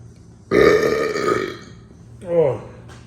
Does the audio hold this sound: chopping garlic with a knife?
no